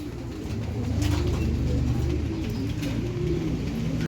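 Several pigeons on a house roof coo steadily and overlap in low, rolling calls, close and continuous over a soft outdoor background.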